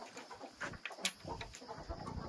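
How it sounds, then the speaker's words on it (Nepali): A flock of chickens clucks softly nearby, with scattered short clucks and rustling at a low, steady level. "यहाँ छ हाम्रा कुखुराहरू।"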